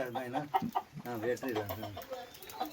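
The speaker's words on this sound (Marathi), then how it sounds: "हे बघा सगळ्या कोंबड्या बसल्यात वरती" Chickens perched up high inside a farm poultry coop fenced with green net and wire mesh, clucking softly beneath a man's close, steady talking.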